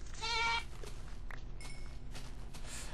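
A goat in the Minecraft Technic modpack game lets out one clear, loud bleat near the start, then quieter game ambience with faint footsteps follows.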